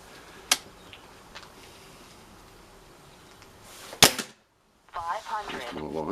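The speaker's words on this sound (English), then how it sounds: "it is an old school Springer style rifle" A Webley & Scott VMX springer air rifle fires with a sharp, close crack early on and a louder crack around the middle. Hissing background fills the gap between them, and voices follow after a brief silence.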